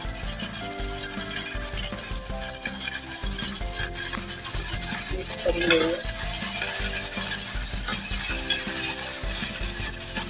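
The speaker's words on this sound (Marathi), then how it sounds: "कापून घेतलेल्या 4 हिरव्या मिरच्या टाकून कोथिंबीर टाकून घेऊया." Chopped onion, green chillies and coriander fry and sizzle steadily in hot oil in a pan over medium gas, with occasional stirring scrapes and clinks, close and continuous with no talk.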